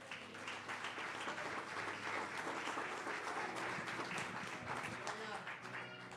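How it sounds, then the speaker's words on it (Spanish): A church congregation applauds steadily and loudly, a dense, sustained wash of many hands clapping together that fills the room for several seconds. "Dele un aplauso al Señor."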